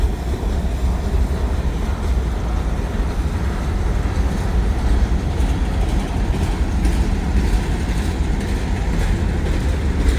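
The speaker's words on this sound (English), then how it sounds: "We got a train meet here." A train rolls past on the Baltimore and Ohio line at a meet, a steady, loud rumble with rhythmic clickety-clack of wheels over rail joints filling the whole stretch, no voices.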